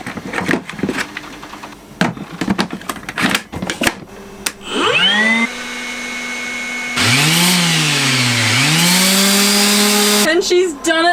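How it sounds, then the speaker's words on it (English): An electric sander, plugged in for a galley refurbish aboard a 1989 Duncanson 34 boat, whirs up after some knocking and handling noises, running loudly and steadily for several seconds before cutting off. "This is a sander and this plugs into this."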